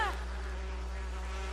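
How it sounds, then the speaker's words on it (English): Game swarm of bees from The Sims 4 jungle adventure, a steady low insect drone held evenly throughout at moderate level, with no talking over it. "Oh no, it's another swarm of bees!"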